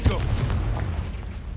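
A Confringo blasting spell goes off in Hogwarts Legacy on PS5 as a single deep boom at the very start, trailing into a low rumbling decay.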